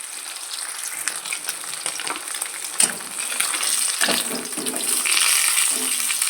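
Rohu fish pieces frying in oil in a pan, a continuous close crackling sizzle with a few sharp clatters and stirring sounds, growing slightly louder toward the end.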